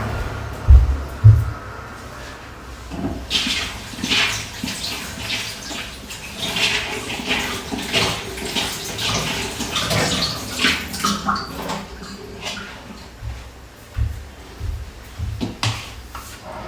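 Vegetables for a drumstick soup, including mushrooms and baby corn, are rinsed under running water in a kitchen, a steady splashing wash with intermittent knocks and handling clatter, fairly close and with no talk.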